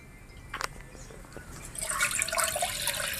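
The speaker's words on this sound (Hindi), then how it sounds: "तो यहाँ दूध पतीले में डाल दी, पानी भी साथ में डाली थी" Milk is poured into a cooking pot that already holds water, a rising liquid splash and gurgle that grows louder over the second half, with a couple of clinks earlier.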